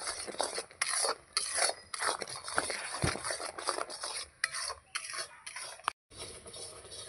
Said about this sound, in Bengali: আমি এখানে গুড় দিয়ে আবার গুড়ের পাক করে নিচ্ছি